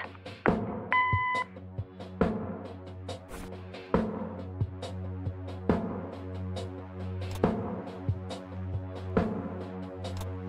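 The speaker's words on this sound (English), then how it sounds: "Leave a message after the beep." In the adventure game Kathy Rain, an answering machine gives a single short electronic beep just after the start, set against a sparse, rhythmic musical backing of plucked and percussive notes that continues throughout.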